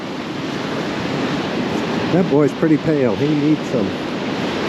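Ocean surf rolls steadily onto a North Carolina beach in December, a continuous broad wash of waves, while someone speaks over it midway through.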